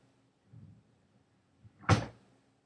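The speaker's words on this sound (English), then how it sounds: "The door closed." A door closes in a quiet interior: a soft low scrape or movement, then a single solid thud that rings briefly and dies away.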